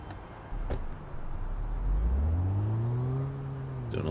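A car in the game Big Ambitions: a door thuds shut, then the engine starts and revs up with a rising whine that holds steady as it drives off, moderately close, with no talking.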